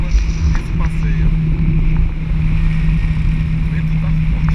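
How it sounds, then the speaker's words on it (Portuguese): Strong wind buffets the microphone in a steady, heavy roar over a droning parasailing boat motor off Aruba, with faint voices in the background. "O vento tá forte pra caralho"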